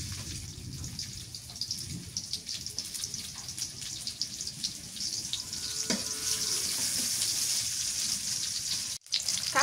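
Onions frying in hot oil for a Bengali fish curry, a steady bright sizzle with faint stirring and scraping, rising slightly louder before a brief cut near the end.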